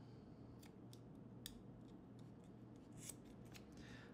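Scissors trim excess material from a bullwhip accent knot with several quiet, crisp snips at irregular intervals, close up against a faint background hum.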